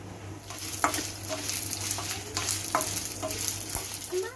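Spices roast in hot oil in a pan, giving a steady close sizzle broken by regular scrapes of a spoon stirring, with no talking.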